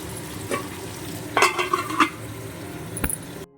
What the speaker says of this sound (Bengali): আলুটাকে ভাজতে বসিয়ে দিলাম